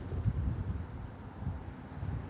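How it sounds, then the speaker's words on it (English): Strong night wind buffeting a microphone beside the East River in New York City, a steady low rumble with gusty swells that never lets up and carries no talk. "Super, super windy."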